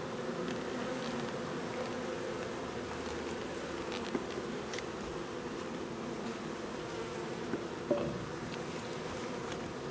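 Honeybees humming steadily from an open hive during an inspection, a dense continuous buzz close by with a few faint clicks and knocks.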